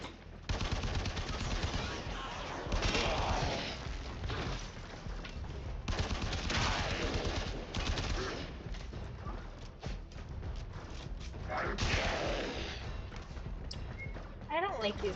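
Rapid gunfire in the video game Warframe, loud sustained bursts of shots that swell and ease in waves over a busy, dense background, with a voice talking over it.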